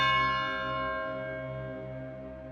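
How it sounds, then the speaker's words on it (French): A single village church bell in Villars rings out once, its bright metallic tone decaying slowly and steadily with a long, fading hum and no other sounds around it. "Maintenant, les cloches vont sonner une à une"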